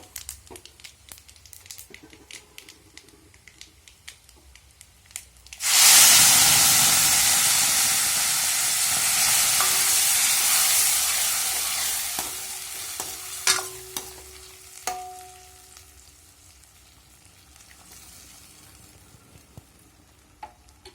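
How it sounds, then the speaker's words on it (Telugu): Dal poured into hot tempering bursts into a loud sizzle and hiss, then fades into steady frying with scraping stirs and a few clinks of a spoon against the pot. "తాలింపు అయితే బాగా వేగిపోయింది ఇప్పుడు పప్పు వేస్తాము"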